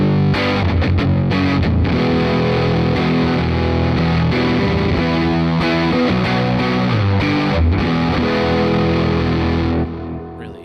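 Electric guitar through the Neural DSP plugin on the Johnzilla preset, blown-out and heavily distorted, strummed chords ringing loud and continuous for about ten seconds before fading at the end, with no talking.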